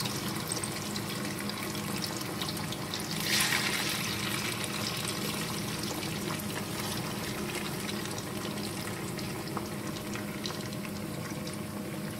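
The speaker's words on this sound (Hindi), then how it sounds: "फिश हमारी डीप फ्राई हो रही है" Fish fillets deep fry in hot oil, a continuous, even crackling sizzle holding steady throughout, with a brief louder surge of bubbling early on and no voices.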